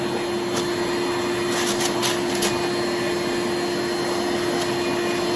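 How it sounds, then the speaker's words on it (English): A DEWALT 20V MAX cordless shop vac runs as a blower, giving a steady, loud whoosh of rushing air with a constant motor whine held unbroken throughout. "So right now it's just us blowing air right now."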